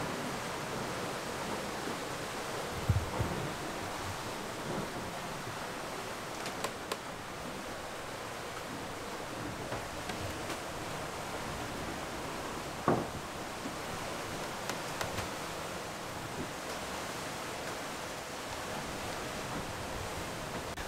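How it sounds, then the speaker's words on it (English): Strong wind of about 35 knots and waves at sea while sailing make a steady, broad rushing roar that continues throughout, with a few faint knocks and thumps. "The wind speed was now getting up to 35 knots"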